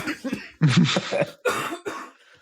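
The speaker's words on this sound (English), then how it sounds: "I'm about to cough again." A person on a podcast coughs several times in a short burst, harsh close bursts with brief gaps between them.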